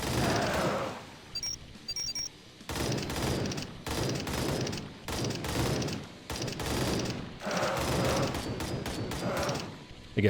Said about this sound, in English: we just have to shoot 500 bullets